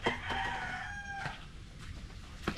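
A rooster crows loudly up close, followed by a few short clucks and sharp clicks against quiet background.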